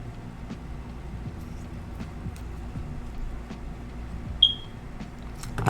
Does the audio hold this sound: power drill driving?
no